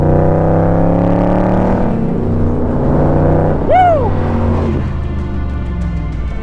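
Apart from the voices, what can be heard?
loud 2024 Shelby Cobra CSX10000 engine revving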